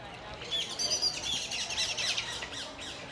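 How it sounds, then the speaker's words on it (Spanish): Small birds chirping and tweeting in the leafy, green Parque de María Luisa in Seville, a steady overlapping chorus of high, fairly faint calls at a distance. "una cantidad que la verdad de especies de aves importante en este parque"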